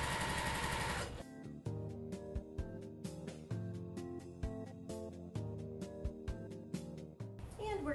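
A sewing machine stitches quilt fabric for a jelly roll quilt, running in quick mechanical bursts with short pauses between runs. A loud rushing noise at the start gives way to the machine, and it carries on to the end.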